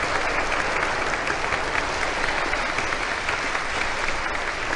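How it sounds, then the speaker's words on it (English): A 1952 radio singing-contest audience claps steadily for a baritone semi-finalist, dense continuous applause from a full hall that holds even for several seconds. "Your applause for Robert Ullman"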